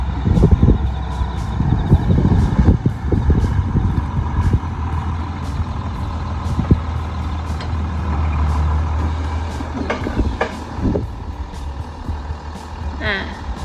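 A truck's reversing alarm beeps repeatedly beside rumbling engines and air-brake hisses while rice straw is baled into round bales in a field, with someone talking over the machinery.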